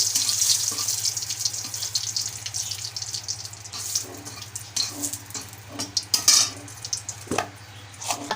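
Four or five dried red chillies fry in mustard oil in a kadai, giving a steady, close hiss of sizzling with scattered crackles and spits throughout.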